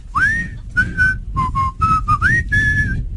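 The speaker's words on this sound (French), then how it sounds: "Il siffle comme un vieux, là." A man whistles a wavering, old-fashioned tune in short, clear phrases close to the microphone, the notes sliding and held with brief gaps between them, during a French radio show broadcast.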